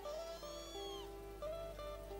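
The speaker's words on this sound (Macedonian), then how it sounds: "Мачка." A cat meows several times, with drawn-out rising and falling calls that are clear and close against a quiet low hum.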